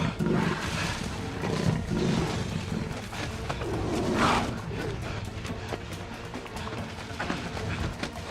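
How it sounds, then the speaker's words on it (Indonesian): A black panther's rough roars and growls rise and fall over several seconds, loud and close, with rustling movement between the outbursts. "macan kumbang."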